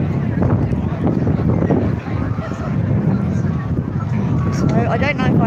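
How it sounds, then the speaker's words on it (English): Wind buffets the microphone at an outdoor protest in a constant low roar and rumble that fills the whole stretch, with no clear voice standing out. "It's very windy, you probably can't even hear me"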